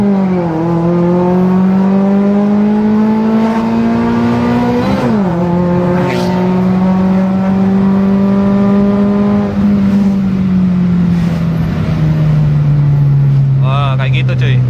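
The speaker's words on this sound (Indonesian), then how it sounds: "Nah ini aku tes geber gigi 1." Toyota Vios 2014 with a 1NZ-FE engine fitted with a racing camshaft, revving hard in first gear: a loud, close engine note that climbs, dips briefly, climbs again, then falls away as the revs drop.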